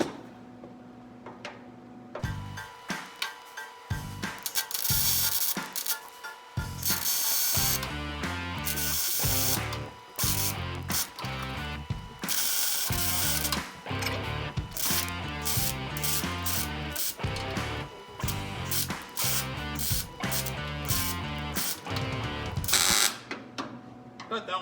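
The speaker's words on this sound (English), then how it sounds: "we'll throw some plug welds in these" A MIG welder lays plug welds on a 1971 Plymouth Cuda frame rail, crackling and buzzing in repeated bursts of varying length with short pauses between them, loud and close.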